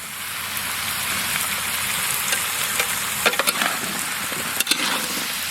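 Potatoes, carrots and green chilli frying in a pan make a steady, close sizzle, with a few scraping stirs breaking through near the end.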